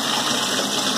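Water rushes from a pipe after a valve is opened while a tap for a washing machine is being installed, producing a loud, continuous, steady gushing hiss.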